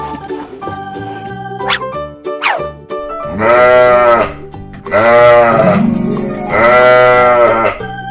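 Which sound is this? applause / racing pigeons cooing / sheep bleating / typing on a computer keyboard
sheep bleating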